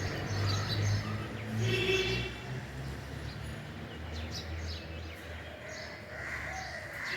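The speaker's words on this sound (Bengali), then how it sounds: "আর সঙ্গে পাখিদের কিচিরমিচির আওয়াজ শোনা যাচ্ছে।" Birds chirp and call in the early morning outside a home, including crow-like caws, with scattered bright calls over a low background hum and no one speaking.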